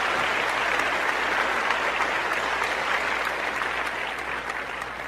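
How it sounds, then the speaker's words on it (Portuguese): A church congregation applauds together, a dense, steady wash of clapping from many hands that fades slightly toward the end, with no voices standing out. "vamos aplaudir ao Senhor mais uma vez que nos tirou de lá"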